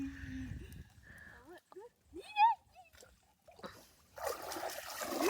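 A Norwegian Elkhound puppy splashes in rainwater outdoors, with scattered wet sloshing and dribbling noises and a louder burst of splashing at the end, while people talk and speak in high, playful voices throughout.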